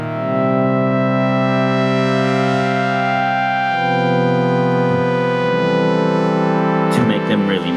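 Sustained synthesizer tone with dense harmonics that slowly shifts and swells under LFO modulation, loud and continuous, with a brief brighter burst near the end.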